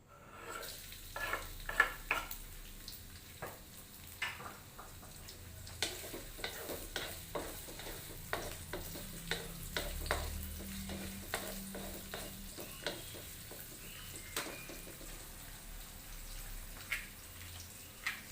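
Water spinach (kangkung) stir-fried in oil for a tauco-seasoned dish, a continuous sizzle broken by frequent spatula scrapes and clatter against the pan.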